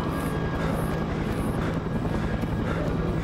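Helicopter in an alien horror video game, a steady continuous rotor and engine drone filling the clip at a constant moderate level, with no break or talk over it.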